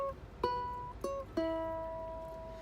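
A ukulele plays a short finger-picked bass riff of four notes, the last, an open string, ringing out and slowly decaying, with no talking.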